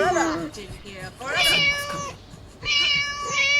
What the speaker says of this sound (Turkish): Kedi de çok bağırdı yazık.